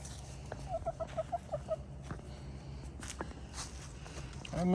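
Chickens in a backyard give a quick run of close, rhythmic clucks, then scattered softer clucks and rustling, with a louder thump at the very end; a person talks quietly nearby.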